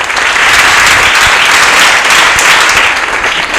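A studio audience gives a guest a standing ovation during a televised arts program, with loud, dense applause that carries on steadily for several seconds with no talking.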